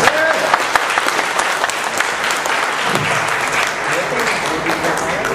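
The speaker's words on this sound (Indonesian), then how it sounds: "Tapi kita beri tepuk tangan orang-orang." Audience applause at an ITB alumni association pre-congress gathering: dense, steady clapping from a sizable crowd fills the whole stretch at an even level, with some voices mixed in underneath.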